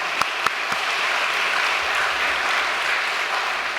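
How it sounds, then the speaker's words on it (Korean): Audience applause of thanks for True Mother at a gathering reporting on the New Africa continental providence, opening with a few sharp separate claps that swell into steady, fairly loud massed clapping. "참 어머니께 다시 한번 감사의 박수를 올려주시면 고맙겠습니다."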